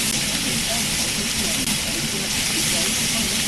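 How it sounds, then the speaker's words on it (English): Scallops searing in a hot pan at an Arizona RV campground, a loud, dense, unbroken hiss that fills the moment, with a brief dip partway through. "get a really nice sear on the scallops"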